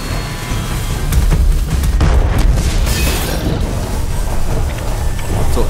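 An enemy shoots in the video game Alice Madness Returns, heard as heavy booming blasts with rumbling low impacts that sit loud and close throughout, with no speech.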